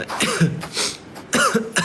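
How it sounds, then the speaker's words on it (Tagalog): A few sharp coughs close by, in two bursts with a short pause between them. "Naubo tuloy ako."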